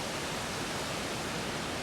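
Rushing water of Cascade Creek pouring down a canyon along the Colorado Trail near Little Molas Lake, a steady, loud broadband roar with no breaks or voices.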